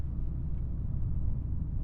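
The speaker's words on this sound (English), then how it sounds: "Get those nice burbles out the back." A 2024 Hyundai Elantra N in full N mode, stock, downshifting hard, with a steady low exhaust rumble and burble running unbroken from inside the cabin.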